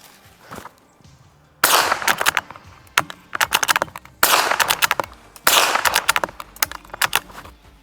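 Several sharp .22 rifle shots from a Savage Mark II firing CCI subsonic ammunition, cracking out one after another at irregular intervals, loud and close, with brief quieter gaps between bursts and no talking.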